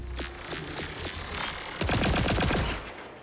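Pistol fire in the Borderlands 4 video game: a few scattered single shots early on, then a dense rapid burst of multiple rounds near the end, loud and close over steady game ambience.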